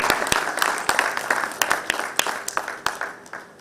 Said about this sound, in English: A bigger round of applause to this